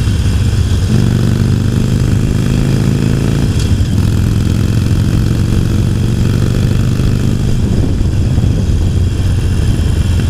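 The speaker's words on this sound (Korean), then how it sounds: "배기음과 엔진의 진동이 같이 운전자에게 전해지면서 굉장히 즐거운" Harley-Davidson Iron 883 fuel-injected V-twin motorcycle engine and exhaust rumbling steadily at close range, a deep continuous throb with a brief swell near the middle, loud and without talk.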